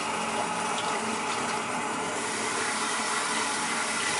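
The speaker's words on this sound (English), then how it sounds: "Again, wash your face just a little bit." Running water splashes steadily at a sink during a wet shave as the face is rinsed, a continuous broadband wash of close, fairly loud flow with no talk over it.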